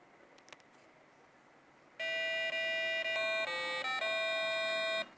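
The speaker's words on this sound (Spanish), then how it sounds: "Entonces la alarma está sonando" After a quiet start, a temperature and humidity sensor's electronic alarm blares suddenly: a loud, piercing tone that steps between pitches for about three seconds, then cuts off.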